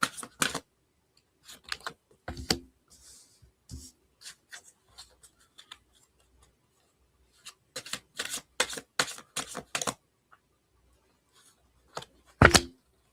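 Tarot cards are pulled from a deck in short, crisp bursts of shuffling and flicking, close and fairly quiet, spread unevenly with silent gaps between clusters.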